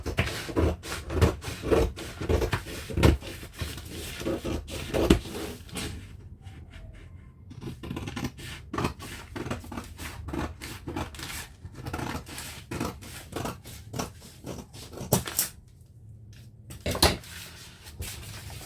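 Scissors cut out a paper sleeve pattern, giving repeated sharp snips and paper rustles close by, in uneven bursts with short pauses throughout.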